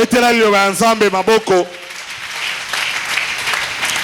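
A church congregation breaks into applause after speech in French, a sustained crowd clapping that swells and holds steadily, with a voice speaking at the start.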